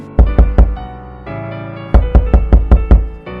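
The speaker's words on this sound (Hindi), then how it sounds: "किसी ने उनका दरवाजा खटखटाया।" Knocking on a wooden door comes in two close, loud bursts of three and six sharp raps, separated by a sustained musical tone, with no voices.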